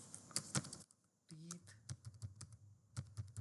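Typing on a computer keyboard at a desk: a run of quick, close, crisp key clicks in irregular bursts, pausing briefly before resuming, with a short low voiced sound in the middle.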